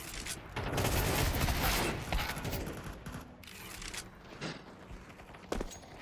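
Gunfire in a first-person shooter game as a player fires while running, a dense rattling burst that thins into scattered shots and softer footstep-like thuds, moderately loud with no voices.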